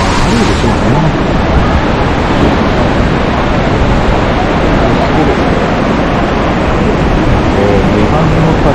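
A rushing waterfall in Okunikko in autumn, a loud, steady broadband roar of falling water that stays constant throughout and masks any other sound.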